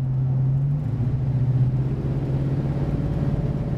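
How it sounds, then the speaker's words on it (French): A 1962 Ford Country Squire with dual exhaust rumbles and builds as it accelerates, a deep continuous revving that stays loud and close throughout, with no talking. "Et voilà, accélération, un son magnifique, et hop, ça décolle sans hésitation."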